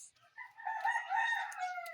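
Chickens among a flock of household pets make close, loud fowl calls, a rising crow-like cry running continuously for about two seconds after a brief quiet start.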